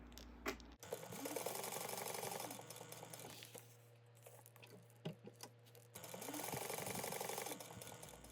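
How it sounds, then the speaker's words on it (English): Sewing machine stitching down both sides of fabric D-ring tabs on a backpack at an eighth-inch seam, a steady close whirring run of rapid needle strokes with a brief pause midway. "you're going to sew down both sides of each of these at 1/8 inch"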